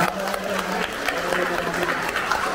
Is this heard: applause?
yes